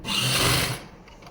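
A short, close burst of sewing machine stitching on a salwar waistband, loud for under a second before trailing off.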